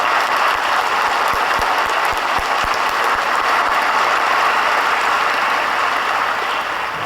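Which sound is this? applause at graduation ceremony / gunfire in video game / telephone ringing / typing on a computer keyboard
applause at graduation ceremony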